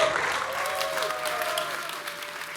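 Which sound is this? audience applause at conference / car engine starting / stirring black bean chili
audience applause at conference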